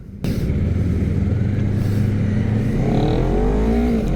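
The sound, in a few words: Honda CBR250RR SP 250cc two-cylinder motorcycle engine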